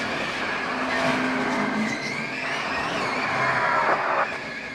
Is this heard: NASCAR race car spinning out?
yes